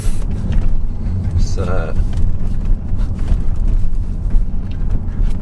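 A high-mileage Range Rover pulls away and drives on, its low engine rumble steady and close throughout, with someone talking over it.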